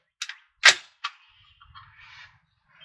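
A Diamondback DB-15 rifle firing Hornady 55 grain FMJ reloads at an outdoor range: three sharp, fairly distant cracks in quick succession, followed by faint rumbling and mechanical rattles.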